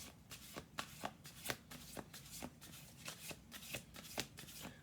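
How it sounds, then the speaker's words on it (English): Playing cards shuffle in a rapid riffle, a string of crisp, evenly spaced flutters and snaps repeating close up for several seconds with no talking. "Let's do 2 more shuffles."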